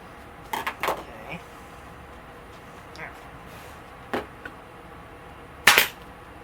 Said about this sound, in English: that's all I can staple.